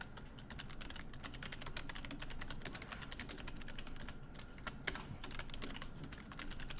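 Typing on a computer keyboard: a dense, steady run of rapid key clicks throughout, close and fairly quiet, with no voices.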